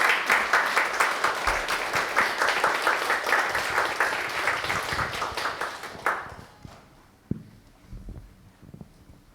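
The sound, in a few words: warm applause welcoming a church speaker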